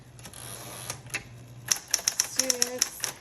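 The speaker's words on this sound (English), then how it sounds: "this is a great working typewriter" A Smith Corona Coronet Coronomatic typewriter is typed on, a run of crisp, quick key strikes growing denser in the second half, with a carriage or bell-like tone partway through; a person speaks lightly at the start.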